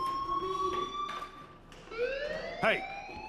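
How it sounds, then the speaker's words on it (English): A school fire alarm rings inside the video game Life is Strange. Steady tonal siren-like wails rise and fall, with a voice speaking over part of it. "Hey, do you hear that fire alarm? That means you should be outside."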